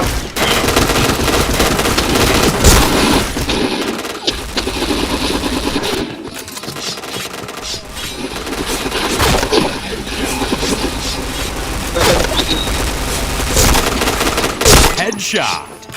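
Rapid automatic gunfire and single cracking shots in a shooting video game, bursts of fire repeating throughout with brief gaps, loud and close, with a player's voice talking in between.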